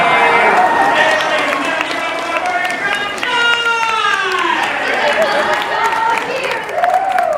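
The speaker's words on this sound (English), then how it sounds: "Cheering!" Cheering and applause from a theme park audience at the special effects stage show on the Universal Studios Hollywood tour, a loud, steady crowd roar with whoops and voices carrying throughout.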